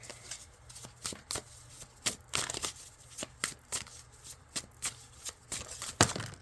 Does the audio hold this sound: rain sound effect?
no